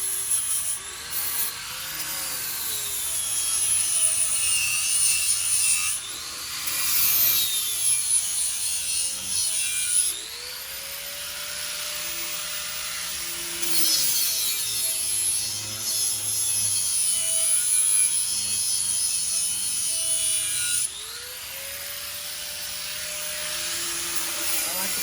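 A grinding tool works on a JW Ultra-Bell housing in slow, drawn-out passes, a loud whining rasp that rises and falls over several long strokes with brief pauses between.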